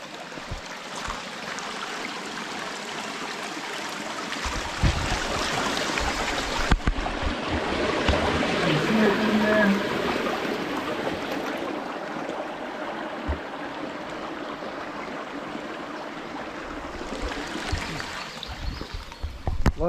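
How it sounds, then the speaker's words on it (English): Rushing water from a stream and a distant waterfall hidden behind trees on a wooded hiking trail, a continuous broad wash that swells in the middle and eases later, with no talking. "I can hear a waterfall up ahead."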